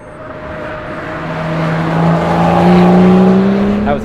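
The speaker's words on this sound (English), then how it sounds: "The BMW Performance exhaust has an incredible sound." BMW fitted with a BMW Performance stainless steel exhaust drives past, engine note rising as it accelerates and grows louder, a loud sustained drone that swells then eases slightly at the end.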